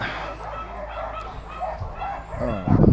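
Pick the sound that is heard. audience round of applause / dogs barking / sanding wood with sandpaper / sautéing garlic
dogs barking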